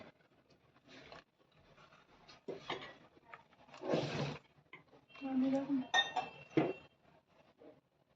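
Lemon pickle in a pot is stirred continuously, making clinks and scrapes of a utensil against metal in intermittent bursts, with a person speaking between the sounds.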